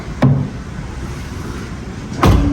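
Two solid, muffled thumps about two seconds apart as a door shuts on a 1962 Porsche 356 S 90, heard close over a steady low background hum.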